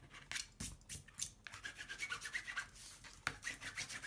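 A paper craft mini album cover is rubbed to burnish it down, making a series of close, dry scraping strokes in an uneven rhythm, quick at first and then steadier, with no talk.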